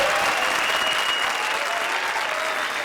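Steady audience applause at a televised comedy show, dense and even throughout, with no talking over it.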